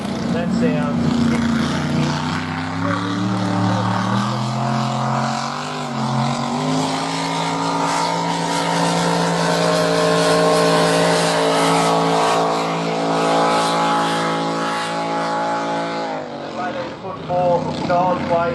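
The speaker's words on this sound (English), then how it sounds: "Charles Way absolutely ringing the hell out of that engine." A loud racing powerboat engine revs hard at a powerboat race, its pitch climbing steadily and holding at a high whine before easing off near the end, with a voice faintly underneath.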